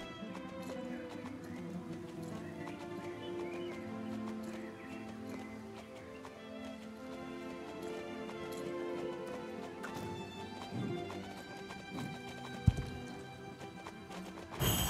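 Racing horses from the video game Star Stable Online, Iberian breeds, gallop with steady rhythmic hoofbeats and occasional neighs over game music, with one sharp thud near the end.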